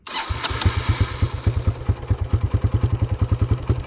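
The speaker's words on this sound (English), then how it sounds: "Now you can start up the bike." A dirt bike engine turns over and fires up close by, settling into a rapid, evenly pulsing idle that grows steady and loud.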